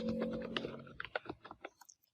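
Quick bursts of typing on a computer keyboard, close and quiet, with irregular clicks of individual keys that trail off into a few final taps.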